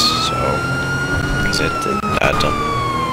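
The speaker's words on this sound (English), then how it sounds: "I hit my siren." A police car siren in GTA V wails steadily with a slowly sweeping tone, loud and close throughout, while someone talks briefly over it.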